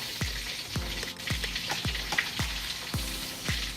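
Breaded chicken-fried steak for tortas de milanesa frying in hot oil: a steady close sizzle punctuated by evenly spaced popping bursts about twice a second, with no voices.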